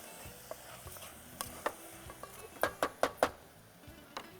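A spatula stirring and mixing seasoned food in a pan on a cooking show, giving scattered soft scrapes and then a quick run of four sharp knocks against the pan, close and alone over a faint hiss.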